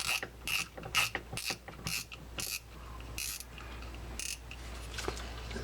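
Tsunami Spear 5000 fishing reel being tightened, giving off a run of close, crisp mechanical ratcheting clicks in quick irregular bursts against a quiet low hum.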